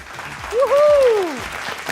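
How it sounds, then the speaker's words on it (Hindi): An audience at an Eid special entertainment show applauds in a short burst, with a bright rising-and-falling whistle cutting through the clapping midway. "आपकी बहुत सारी तालियां"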